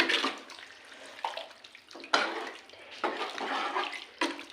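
Mint and coriander are stirred into a wet mutton curry, a close series of irregular squelching, scraping stirs with short pauses.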